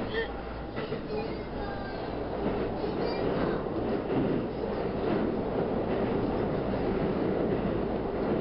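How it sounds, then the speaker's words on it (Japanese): A passenger train pulls out of Nagoya Station, its steady rumble and faint wheel-on-rail noise filling the cabin at a constant loud level throughout. "まあとりあえず列車は名古屋駅を出発。"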